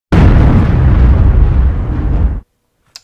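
A loud explosion sound effect bursts in and roars for about two seconds, then cuts off abruptly, followed by a faint brief pop.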